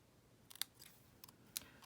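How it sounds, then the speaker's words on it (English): Scissors snip ribbon into a fishtail end for a handmade Christmas card, with two or three crisp, quiet cuts heard close up in an otherwise hushed room. "we're going to trim it up with my scissors here"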